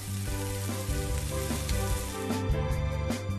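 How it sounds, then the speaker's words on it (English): A split sausage grilling in a pan for a Japanese bento, giving off a steady, close sizzle over a sustained tonal background. "The sausage is split open and grilled, so it takes the shape of an octopus with its tentacles curled up."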